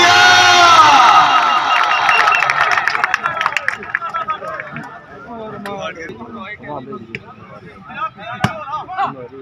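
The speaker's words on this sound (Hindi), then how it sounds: "तालियां" A crowd at a match between Zubair Khan Targ and Waseem Sheikh of Bhakkar Club in Dajal, Bhakkar district, roars and cheers loudly, then fades into scattered shouts and chatter.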